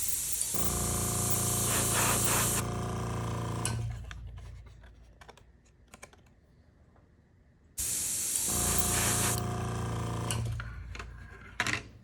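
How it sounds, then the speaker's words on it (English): An airbrush sprays a thinned 50-50 mix of scarlet red paint onto a Star Wars Armada Republic Acclamator model in two steady hissing bursts separated by a few quiet seconds. "Give it a test spray."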